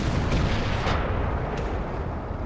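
Tank cannon fire in World of Tanks, a dull booming blast over a steady rumbling engine drone, with a few faint sharp impacts after it.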